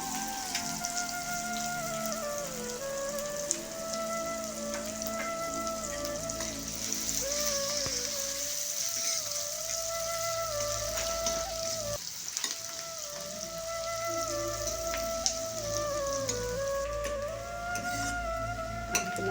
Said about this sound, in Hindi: अब इसमें मुंह कटा हुआ 1 बड़ा प्याज डाल देते हैं। इसको भी भुनने देंगे, गुलाबी होने तक इसे भूनेंगे हम।